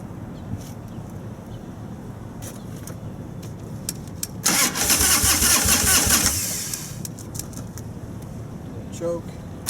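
A 1996 Harley-Davidson FXSTS Softail Springer with an Evolution V-twin cranks over and briefly catches, a loud burst of roughly two seconds rising out of steady background noise before fading back down.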